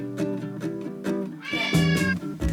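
A cat meows several times in close succession, loud and near, with drawn-out whining calls and no voices over it.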